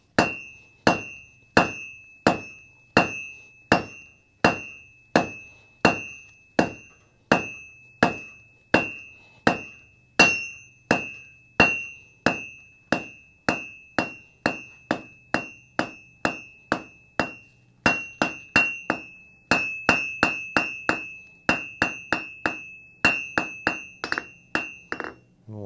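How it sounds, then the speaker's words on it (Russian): A hammer forges a nail on an anvil in a long, regular series of loud ringing metallic strikes, about two per second, each leaving a bright, bell-like tone; the blows quicken slightly toward the end. "ковка гвоздя"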